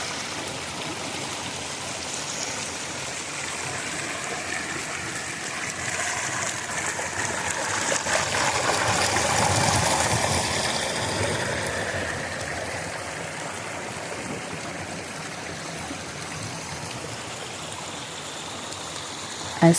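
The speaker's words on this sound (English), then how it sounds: "the beauty of the river flowing over the rocks" A river flowing over rocks in a natural outdoor setting, a continuous close rushing and gurgling stream that swells slightly midway, with no one speaking.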